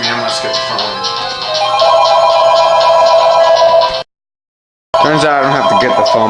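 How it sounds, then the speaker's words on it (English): A phone keeps ringing in steady repeated trills, loud and near, while someone talks over it; a brief silent gap interrupts before the ringing and voice return. "Turns out I don't have to get the phone, but it's going to keep ringing."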